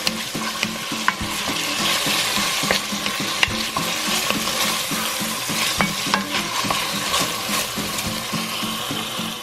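Ground beef sautés in a pan until brown, with a dense, continuous sizzle and frequent rhythmic scraping and tapping of a spatula, loud and close, with no one talking.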